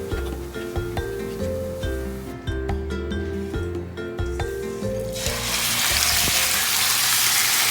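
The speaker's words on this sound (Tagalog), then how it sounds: "magpa-fried po tayo ng garlic. Ito-toast po natin ang ating garlic." Garlic fries in hot oil in a pan, a steady close sizzle with light clinks of stirring that grows into a broader, hissing crackle toward the end.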